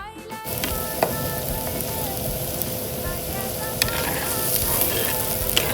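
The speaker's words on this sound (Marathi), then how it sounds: "तेल तापलेलं तर त्याच्यावर कांदा ॲड करून घेऊया बारीक चिरलेला कांदा" Finely chopped onion hits hot oil and breaks into a loud steady sizzle, with a few sharp stirring clicks and spatters over the constant frying.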